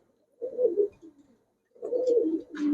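Pakistani highflyer Giribaj pigeon cooing up close in two soft, throaty bursts separated by a short pause, with no other sounds around.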